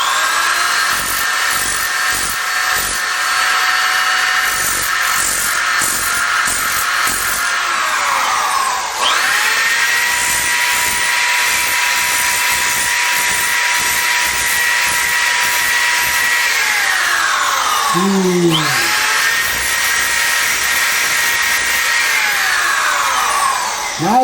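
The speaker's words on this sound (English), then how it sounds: "So now you take your nifty disc sander." A disc sander smoothing plastic runs with a loud, steady, gritty whine, winding down and spinning back up twice, close and uninterrupted by speech.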